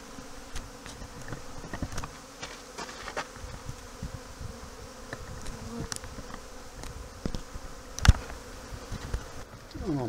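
Bees buzz steadily, with scattered sharp taps and knocks close by and a brief louder thud near the end.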